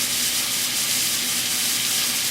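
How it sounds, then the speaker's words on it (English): Pork chops held fat side down in a hot pan sizzle loudly and continuously up close, a dense, even crackling hiss with no voices over it. "use kitchen tongs to hold the chops fat side down until it sizzles and browns slightly"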